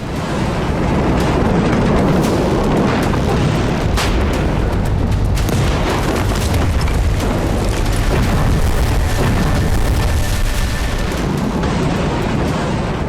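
Missile strikes on high-rise buildings in Tel Aviv, heard as a loud, continuous, heavy rumbling roar with dense boom-like blasts running through the whole stretch.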